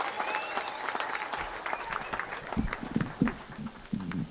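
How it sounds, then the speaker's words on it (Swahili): An audience claps to welcome a government minister at a public event. The applause is scattered and uneven, with some thumps and crowd noise mixed in, and a few voices can be heard under the clapping. "Makofi tafadhali"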